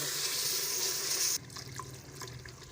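Chicken karahi with added water simmering and boiling in a pot, a steady broadband hiss and bubbling that cuts off abruptly partway, leaving softer scattered bubbling pops.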